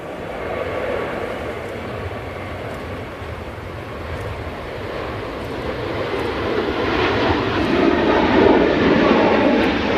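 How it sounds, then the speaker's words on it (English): Turkish Airlines Airbus A321neo departing Manchester Airport, its jet engines producing a broad, continuous roar that swells gradually louder toward the end at close range, with no talk over it. "Okay, so we got the Turkish A321neo."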